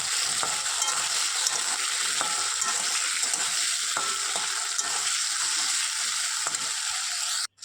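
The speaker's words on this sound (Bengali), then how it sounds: "লবণ দিয়ে আলুটাকে আমি একটু ভালো করে ভেজে নেব" Potatoes sprinkled with salt fry in a pan for ridge gourd and potato posto, a close, steady sizzle with intermittent stirring scrapes that runs without pause.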